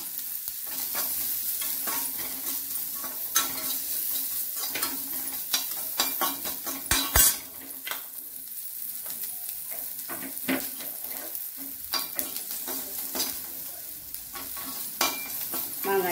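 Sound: onions and green chillies frying and being stirred in pan

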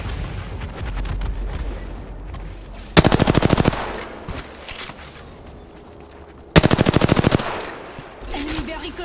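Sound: gunfire in a video game

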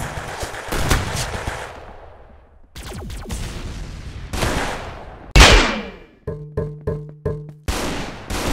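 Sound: gunfire in Roblox video game

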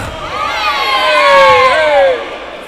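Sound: parents yelling and screaming at a basketball game

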